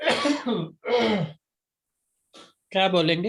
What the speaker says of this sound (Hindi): मुझे छींक नहीं आई, मुझे खांसी आई।